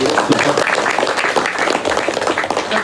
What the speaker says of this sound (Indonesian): Kita boleh tepuk tangan buat guru kita